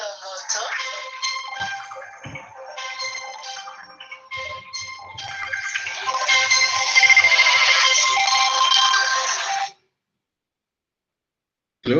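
Mobile phone ringing with an incoming call, a bright, repeating electronic ringtone melody that plays loudly for several seconds, with faint background talk underneath, then cuts off abruptly into silence.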